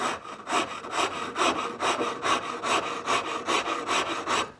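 Steady back-and-forth rasp strokes filing wood, about a dozen evenly paced scraping passes, close and fairly loud with no talking.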